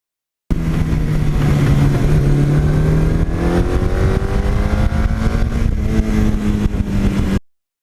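A Suzuki GS1100E motorcycle engine revs up hard and close, a steady deep growl climbing in pitch through the gears with a smooth rising drone, alone with no talk, cutting off abruptly at the end.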